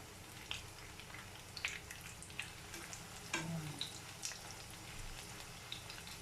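Pork pieces fry in oil for crispy pork, making a faint, continuous sizzle dotted with small pops and soft clatter as the pieces are flipped.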